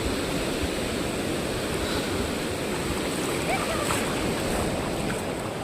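Sea waves wash at Anjarle beach in Dapoli on the Konkan coast, a loud continuous roar of surf and moving water close by, steady throughout without a break.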